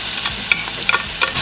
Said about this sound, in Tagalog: we are going to wait for the oil to get heated before we saute the onion and the garlic